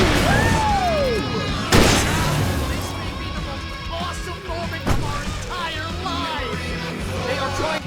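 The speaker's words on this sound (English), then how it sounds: "You'll have the help of Barry, Alan's manager, who will be operating the stage lights and the fireworks." Stage fireworks exploding in the video game Alan Wake, a few loud booming bursts punching through a steady mix of rock music and game ambience, with a narrator talking throughout.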